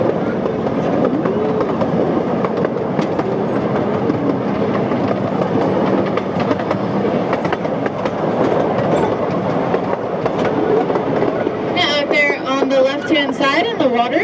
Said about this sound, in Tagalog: Ayan, bibilis na ang train natin. I-pick up na raw ng speed.